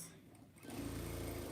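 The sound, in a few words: sewing machine stitching a log cabin quilt block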